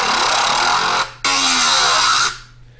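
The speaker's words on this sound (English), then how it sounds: "The bass section has a bunch of growls in it that sound like this" Two loud, distorted growl bass hits from a Melbourne Bounce sample pack, each a gritty sustained snarl of about a second with a brief gap between them, then fading out.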